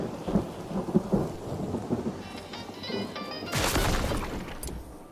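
A lightning storm in the game Mind Over Magic brings rolling thunder rumbles and a steady wash of rain, with a heavier burst of storm noise swelling near the end; no one speaks.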